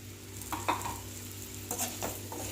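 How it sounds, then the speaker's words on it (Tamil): Potatoes tossed and stirred in hot oil for a Tamil potato fry, soft sizzling under a low hum with a few spoon scrapes and knocks against the pan. "பிரட்டின உடனே உருளைக்கிழங்கு வந்து ஆட் பண்ணிக்கலாம்"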